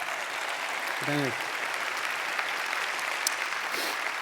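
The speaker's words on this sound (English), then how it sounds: "one more round of applause for putting that together" Faint, distant applause from a large audience at a school district convocation, a diffuse steady patter lasting several seconds beneath someone briefly speaking at a microphone.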